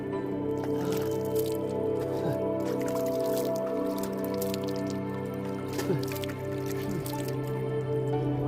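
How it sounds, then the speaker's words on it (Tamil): Clean water trickles and drips steadily inside a forested mountain, a continuous wet patter with scattered louder drips over a constant low background hum. "தண்ணி எப்படி வருது பார்த்தீங்களா மலைக்குள்ளே"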